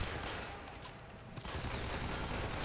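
Gunfire in the video game Hitman, a dense continuous burst of shots that blurs into a steady roar with no clear gaps, at moderate loudness.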